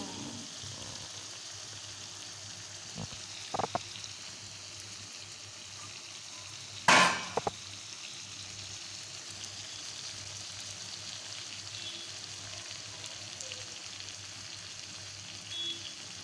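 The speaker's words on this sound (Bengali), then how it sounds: "দেখেছ কিরকম তেলগুলো চুটচুট চুটচুট চিরবির চিরবির চিরবির চিরবির করছে।" Hot oil sizzles steadily in a pan while spicy egg kasha cooks in a home kitchen. A continuous close hiss carries a few sharp pops and crackles, with no talking.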